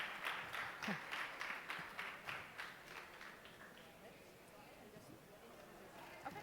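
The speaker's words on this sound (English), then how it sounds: "Please, a big round of applause for all these fantastic people coming all over the world." Conference audience applauding as panelists come on stage at an innovation summit, with rhythmic, fairly distant clapping that fades into quieter background murmur and a little talk.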